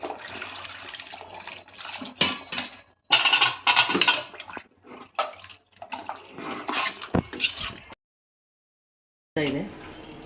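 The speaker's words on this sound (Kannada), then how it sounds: "ಎಷ್ಟು ಬೇಕೋ ಅಷ್ಟು ನೀರು." Water is poured into a pot of tomato lentil dal in uneven splashing bursts close by, with a short silent gap before a final gush.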